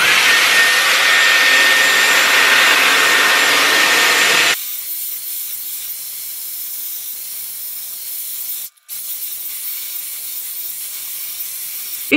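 A Dyson Airwrap hair styler blows hot air in a loud, steady hiss, then abruptly drops to a much quieter airflow that continues with a brief cutout near the end.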